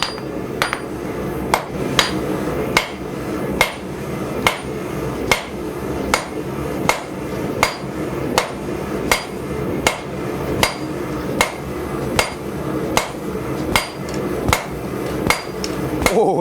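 Steel for a drawknife is hammered on a 51 kilogram Brooks anvil, a steady run of loud ringing blows about twice per second, close and without speech, across the whole stretch.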